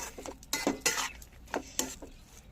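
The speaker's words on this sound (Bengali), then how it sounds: "ভালো করে একটু নাড়াচাড়া করে নেব।" Cabbage with coconut and papad is stirred in a pan on a switched-off stove, with a series of close clinks and scrapes of a metal spoon against the pan in an irregular rhythm and barely any sizzle.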